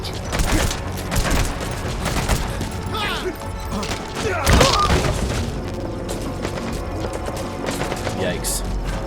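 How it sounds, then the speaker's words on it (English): Incoming mortar fire and gunfire in the video game Metal Gear Solid V, a busy stretch of shots, crashes and splintering impacts with a heavy boom near the middle, and someone talking over the combat. "Mortar fire is coming in there."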